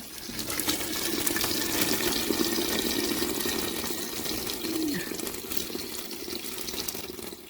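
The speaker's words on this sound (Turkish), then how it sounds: "Sıcak suyumuzu da döküyoruz kettle'ımızdan." Hot water pours steadily from a kettle into a pot of stuffed tripe or mumbar, a continuous close liquid gush lasting several seconds with no talk over it.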